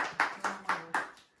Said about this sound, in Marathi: टाळ्या संकेतसाठी.